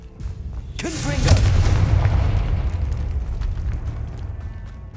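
A Confringo fire spell detonates in Hogwarts Legacy as a loud, booming blast followed by a long rumbling tail, with a voice speaking over it.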